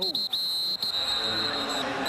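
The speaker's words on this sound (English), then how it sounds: "Barron Simpson didn't hear the whistle." A referee's whistle shrills at a CFL football game between the Saskatchewan Roughriders and BC Lions, several short sharp blasts followed by one sustained tone over crowd and broadcast noise.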